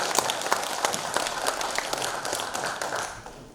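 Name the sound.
audience applause at a cultural center anniversary event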